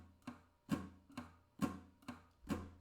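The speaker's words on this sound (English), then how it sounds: "You're going to pick a bass note and strum down," Muted acoustic guitar played in a pick-and-strum pattern: a picked bass note followed by a percussive downward strum, repeating in a steady alternating rhythm, close and fairly quiet, with no voice.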